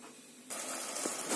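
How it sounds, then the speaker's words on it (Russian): A pot of marinade of water, vinegar, salt, sugar, vegetable oil, bay leaf and peppercorns starts boiling, a sudden steady hiss and bubbling that begins partway through and continues close and fairly loud, with no talk. "Маринад закипел."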